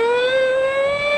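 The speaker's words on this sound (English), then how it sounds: "When you hear a siren, you can help by pulling your car quickly to the curb and stopping" A police car siren in a cartoon wails loud and steady, one sustained rising tone with bright harmonics, alone with no voices.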